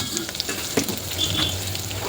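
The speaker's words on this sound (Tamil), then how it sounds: "எல்லாத்தையும் சேர்த்து நல்லா வதக்கி விட்டுடலாம்" Steady sizzling of onions and chilies sautéing in a pan, with a few scraping stir clicks, fairly close and without voices.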